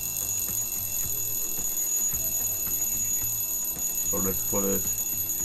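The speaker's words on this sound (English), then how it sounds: "That was a timer, but it doesn't matter." A shrill, continuous electronic timer alarm in the Train Fever video game rings steadily under a voice as he speaks.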